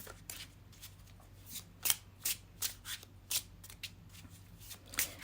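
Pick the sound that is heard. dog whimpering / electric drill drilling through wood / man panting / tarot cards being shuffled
tarot cards being shuffled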